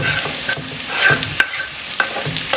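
Chopped spinach sautés with garlic and onion in a pan, a loud sizzle broken by repeated scrapes and taps of a stirring utensil, with no talking.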